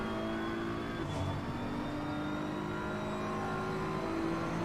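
Race car engine in a sim racing game, a steady faint droning hum with sustained tonal whine, no talk over it.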